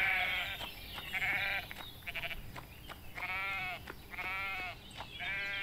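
Goats bleat repeatedly in a herded group in the farming game Everdream Valley, a run of several overlapping, wavering calls close by over steady ambient game sound, with no talk.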